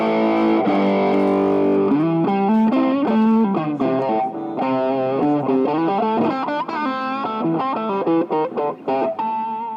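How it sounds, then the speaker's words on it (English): An electric guitar plays through a Big Joe's Stomp Box distortion pedal, loud and heavily overdriven. It starts with sustained chords, then moves into a quick melodic run of bent, singing notes. "Big Joe's Stomp boxes showed 5 remarkable distortion pedals."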